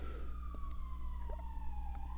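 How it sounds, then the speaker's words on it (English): Siren of an emergency vehicle passing outside, a steady wailing tone sliding slowly down in pitch over a low rumble of traffic, loud and continuous throughout. "siren got me off track"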